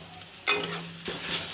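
Ginger paste hits a hot pan while chickpea curry masala cooks, a sudden close sizzle burst followed by a stirring scrape and a second softer sizzle.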